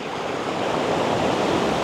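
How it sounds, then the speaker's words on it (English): Strong ocean surf surges onto a shore, a loud, continuous wash of crashing water building slightly in force, with no voices. "Strong surge."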